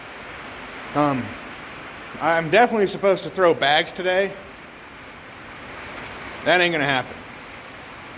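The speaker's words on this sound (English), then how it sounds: "it is absolutely pouring outside" Heavy rain pours steadily outside as a constant broad hiss, filling the background from start to finish while someone speaks over it in a few short bursts.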